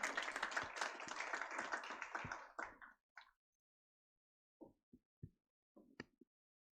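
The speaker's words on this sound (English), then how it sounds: "Please give them a round of applause." Applause from an audience at a finance society event, a dense burst of clapping that fades out after about three seconds, followed by a few scattered single claps in near silence.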